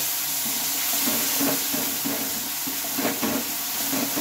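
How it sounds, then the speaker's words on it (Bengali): Water pours into a cooking pan holding a ground white mustard and poppy seed paste for a flat bean dish, making a steady, close hissing splash with a few brief louder spurts and no talking. "অল্প একটু জল দিয়ে নিয়েছি আমি।"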